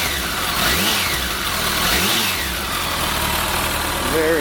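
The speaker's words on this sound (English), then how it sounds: "We're not going to rev it a whole lot." A brand-new 2012 Kawasaki ZX14R Ninja in Candy Surf Blue idles and gets a few gentle blips of the throttle, each short rev rising and falling back, heard close and steady at moderate level.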